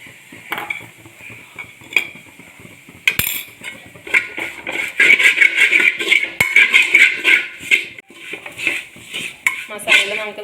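Nadan chicken thoran with garam masala stirred and roasted in a pan, a steady run of metal spoon scrapes and clinks against the pan over a soft sizzle, close and busy throughout.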